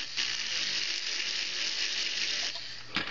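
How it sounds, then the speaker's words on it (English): Carbide wheel on a jeweller's rotary tool cutting a groove into a gemstone setting's claws: a steady high-pitched whirring grind that holds for about three seconds, close and continuous, with a brief stronger bite near the end. "I'm just going to show you how I apply this carbide wheel"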